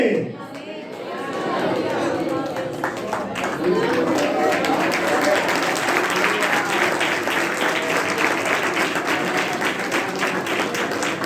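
A crowd at a gospel meeting claps steadily for a long stretch, dense and sustained applause with chatter and voices mixed underneath throughout.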